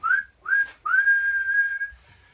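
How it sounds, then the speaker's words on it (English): A referee's whistle signals the end of a match, sounding as two short rising blasts and then one long sustained blow, clear and close with no talk. "Referee blows his whistle"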